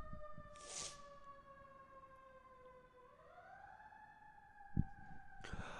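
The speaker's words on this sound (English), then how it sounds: "y'all hear the ambulance" A wailing ambulance siren slowly sweeps down and back up in pitch, steady and moderately distant, with a few brief clicks and noises along the way.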